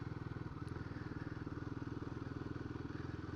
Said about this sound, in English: there's a motorbike outside